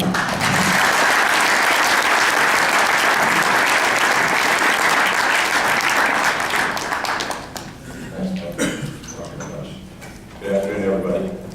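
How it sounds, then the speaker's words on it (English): A conference audience gives sustained loud applause for Tod Pike, the Samsung keynote speaker, which fades after several seconds as a voice begins speaking over the dwindling claps. "please, a round of applause for Tod Pike"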